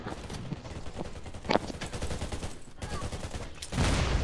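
Heavy weapon fire in the shooter game Garena Undawn, rapid bursts of gunshots rattling at moderate distance, with a few sharper reports standing out, fairly quiet overall.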